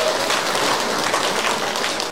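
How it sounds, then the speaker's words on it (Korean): Crowd applause rings out at the opening ceremony of the 2022 Yeongdong Grape Festival, a steady, dense wash of clapping from a large outdoor audience sustained throughout without talk. "여러분 다시 한번 큰 박수 부탁드리겠습니다"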